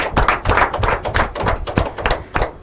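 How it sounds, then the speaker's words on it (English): Audience at an inter-collegiate quiz and debate competition clapping in a dense, continuous round of applause for two schools, many hands close together at an even level. "Can we give a warm round of applause to Iwere College and Beach School"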